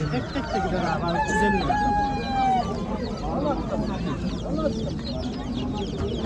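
Village chickens cluck and a rooster crows among the crowd at an outdoor poultry market in Kırıkkale, close by and mixed with people talking.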